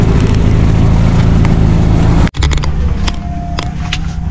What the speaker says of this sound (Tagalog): singaw na yung tambutso niyan. Napakaingay.